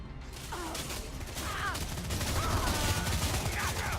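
Sustained gunfire in the shooter game Lawbreakers, a dense barrage of rapid shots and mechanical clatter that builds slightly louder over four seconds, with faint voices underneath.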